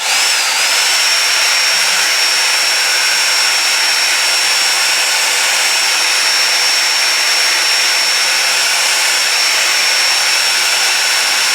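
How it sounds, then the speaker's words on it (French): A steady, loud hair dryer drying glue on a wig install blows continuously with a high whining tone, unbroken from start to finish and no voices. "Là je viens avec mon sèche-cheveux pour bien sécher ça."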